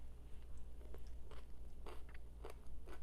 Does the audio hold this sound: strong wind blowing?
no